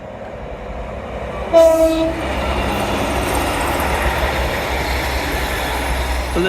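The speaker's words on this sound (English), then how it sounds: "Here we go, the first train of the day." A train passes through Teignmouth station, sounding a loud horn blast near the start and then rumbling steadily by with continuous rail noise until the end.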